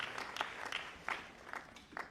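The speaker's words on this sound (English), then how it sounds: "ladies and gentlemen, a round of applause for Her Excellency, Dr. Fatima Madabio." Faint, sparse applause at a resilience campaign conference in Freetown, Sierra Leone, a handful of scattered individual claps spaced irregularly and heard at a distance.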